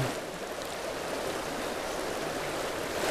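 Flowing stream in a beautiful valley creek bed, a steady broadband rush of water, close and even, alone without voices for the whole three seconds.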